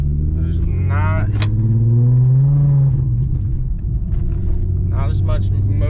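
A VW MK4 GTI accelerating hard on a road test drive, its engine rising in pitch through a rev with a shift, heard from inside the car while people talk over it.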